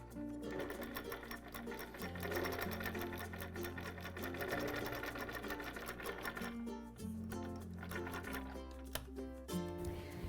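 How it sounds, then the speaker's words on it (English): A sewing machine stitching fabric side seams with a half-inch seam allowance for a geometric wall hanging, running as a loud, steady, rapid mechanical whir that pauses and speeds up in spells throughout. "Now we're going to sew each side using a 1/2 inch seam allowance."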